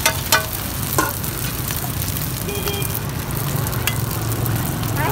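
Taro flour cakes fry at a street food cart near Cây Gõ market in District 6, Saigon, with a steady close sizzle of hot oil and occasional sharp clinks of utensils.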